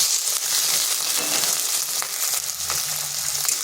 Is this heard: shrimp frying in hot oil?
yes